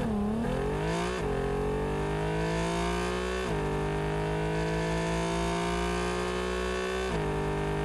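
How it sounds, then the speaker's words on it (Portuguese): The Maverick car in Rocket League revs its engine in several rising pulls, each climbing steadily in pitch before dropping back and surging again, a smooth, loud, continuous engine whine with no voices. "Primeiro eu vou mostrar aqui o som do motor do Maverick"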